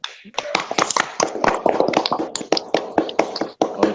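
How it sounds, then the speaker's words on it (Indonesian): Children in a classroom clapping together, a dense, fairly close burst of uneven hand claps that holds steady for several seconds. "Oke, tepuk tangan untuk kita semua."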